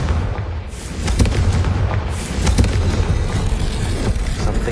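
Confringo fire spell blasting in the video game Hogwarts Legacy: a dense, rumbling roar of explosive booms with several sharp bursts, loud and continuous throughout.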